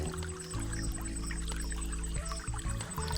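A muddy river runs high and fast after rain, giving a steady, dense rushing roar with a constant low rumble throughout and no voices.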